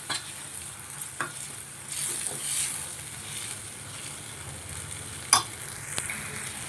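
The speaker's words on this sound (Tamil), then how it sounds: "இதை வந்து நல்லா நம்ம பச்சை வாசனை போகிற அளவுக்கு வதக்கி எடுத்துக்கலாம்." Oil sizzles steadily in a pan as masala for an egg gravy is sautéed, while a spoon scrapes and stirs the mixture in occasional sharp clinks.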